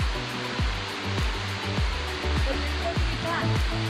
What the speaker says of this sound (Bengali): আরেকটা ঝর্ণা, এই ঝর্ণাটার নাম হচ্ছে কুপিরাখুম